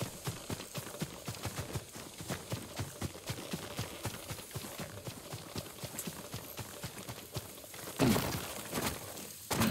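Horse hoofbeats in the video game Ghost of Tsushima, a steady galloping clip-clop that runs throughout at moderate level, with a brief louder burst of thuds near the end.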